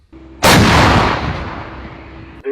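A single booming shot from a Krab self-propelled howitzer, extremely loud and close, with a sharp blast followed by a long rumbling decay over a low engine idle.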